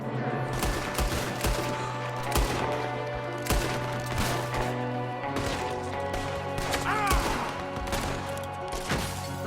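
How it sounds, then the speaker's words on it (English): Repeated gunfire from a shooter at a window in the video game Red Dead Redemption 2, sharp bursts of shots cracking out in a steady rapid rhythm over a low humming game soundtrack. "There's another one shooting from the window."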